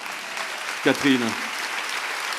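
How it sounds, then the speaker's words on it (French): A theatre audience at a mentalist show applauds in a steady wash of clapping throughout, while someone speaks briefly over it near the middle. "vous pouvez applaudir bien fort"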